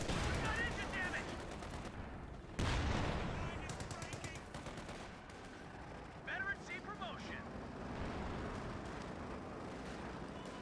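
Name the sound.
LMG gunfire and grenades in Company of Heroes 2 video game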